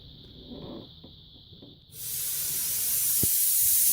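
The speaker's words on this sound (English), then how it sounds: "you've just got a really nice fine mist coming out" A steady high-pitched whine gives way to a loud, continuous hissing spray from a portable mist coolant system producing a fine mist, building and holding, with a brief thump partway through.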